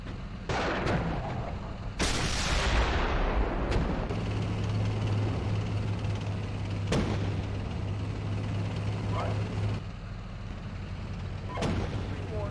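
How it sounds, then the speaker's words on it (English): Gunfire and artillery in the tank simulator Steel Beasts Pro, with heavy booming explosions and sharp cracks over a constant low engine rumble, loud and close with scattered distant reports. "3-2, we're taking fire here."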